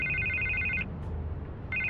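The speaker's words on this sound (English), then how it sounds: "I can't get the phone to stop ringing." A telephone rings in Batman: The Telltale Series, two bursts of a trilling electronic ring separated by a short pause, close and clear over a low ambient bed.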